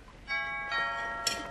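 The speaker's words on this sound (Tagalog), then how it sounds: "May nagdo-doorbell." A doorbell rings in a home: a clear chime of two bright tones in quick succession, moderately loud and alone.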